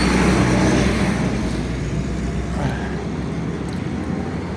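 Cars passing on a road, a loud broad whoosh of traffic that slowly fades as vehicles go by, with no talk over it.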